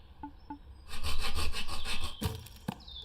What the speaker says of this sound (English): Lots of like sawing and hammering noises that I don't really know where they come from